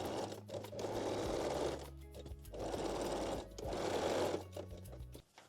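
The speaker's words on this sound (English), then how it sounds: "And secure the rings with a small zigzag stitch." Sewing machine sewing a small zigzag stitch to secure the closure rings on a bralette, three short runs of quick, close needle chatter with brief pauses between them.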